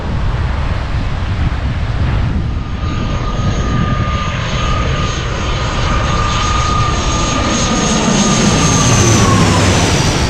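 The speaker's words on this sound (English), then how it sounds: "you can sit underneath the airplanes as they're coming in to land" Airliners coming in to land roar low overhead in Lanzarote, a loud jet-engine rush with a steady high whine that swells and shifts over ten seconds, mixed with wind buffeting the microphone.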